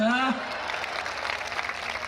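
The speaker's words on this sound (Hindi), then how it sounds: "आप ताली बजा रहे हो" Audience applause at a Hindi comedy poetry gathering: a steady, dense wash of clapping that runs the whole stretch, following a brief rising tone at the start.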